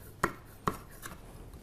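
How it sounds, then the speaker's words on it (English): A knife cuts chorizo into pieces on a board, two sharp close chops followed by a softer third, quiet between strokes. "I'm going to cut it in half and then just cut it in pieces."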